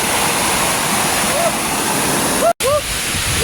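Anli Falls on the Mt. Kamamasam trail pours in a steady, broadband rush of falling water that fills the whole clip. It drops out for a split second, and faint voices or birdlike chirps sit above it.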